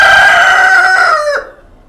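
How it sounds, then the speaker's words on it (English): A rooster crows once, loud and close, a single drawn-out call that fades out near the end. "So this is the chicken."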